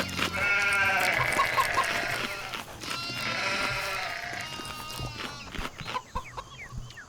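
Palm sheep in the game CHKN giving loud, repeated synthetic bleats and clucking calls that run nearly continuously, then trail off into short scattered chirps near the end.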